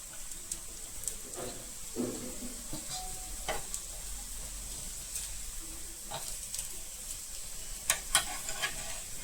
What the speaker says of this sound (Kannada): ಇಟ್ಕೊಂಡಿರೋ ಪೀಸ್ಗಳನ್ನ ಕಾವಲಿ ಮೇಲೆ ನಿಧಾನಕ್ಕೆ ಶಾಲೋ ಫ್ರೈ ಮಾಡ್ಕೋಬೇಕು